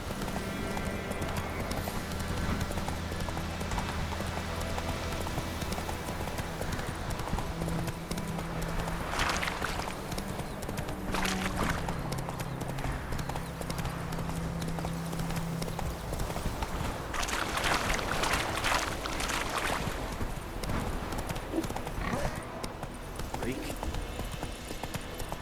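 A horse gallops in The Witcher 3, with steady rhythmic hoofbeats throughout, fairly close, under bursts of game sound and a voice speaking.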